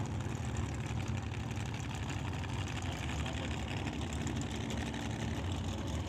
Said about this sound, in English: So, got a couple of dragsters in the lanes.